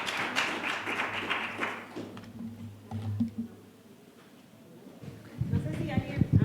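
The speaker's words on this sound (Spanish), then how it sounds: "Les pido un aplauso para los miembros de la mesa por todas sus ideas." Applause for the panel members at a meeting on prioritising reference centres for Angelman syndrome: a dense burst of clapping rises over the first two seconds and then fades, with voices and low rumble following.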